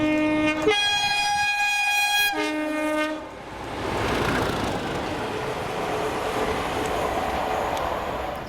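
Class 37 diesel locomotive 37610 on a route-learner working passes Howwood, Scotland, sounding a loud two-tone horn in bursts before the rumbling engine and rolling wheels take over as it goes by.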